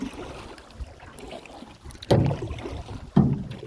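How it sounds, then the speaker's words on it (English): A double-blade paddle strokes a canoe on a lake, two distinct splashy pulls standing out over soft background water and wind, with no talk. "It's been a while since I paddled in the canoe with the double blade paddle."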